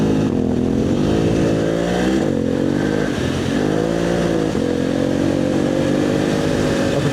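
Motorcycle engine running steadily while being ridden on a shakedown ahead of a rally, a loud continuous drone with rising and falling revs and gear changes throughout, no voices.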